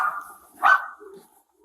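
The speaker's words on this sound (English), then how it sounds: "The sound of barking from Pixel, the family dog, was the only noise from within the house." Pixel, the family dog, gives a single muffled bark from inside a house, brief and moderately loud against near silence.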